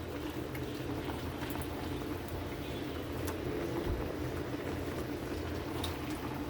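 Pork paksiw simmering in a pot as eggplant goes in, a continuous close bubbling boil with a few faint clinks on top.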